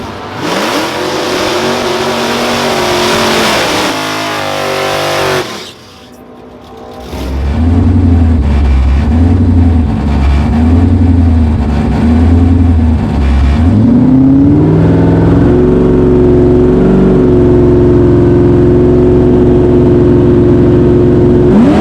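A 1,000 HP Mustang race car with a 5.4L modular V8 screams loudly at high rpm in competition, then briefly drops away. It returns with a pulsing, staged rumble before climbing into a sustained, rising wail.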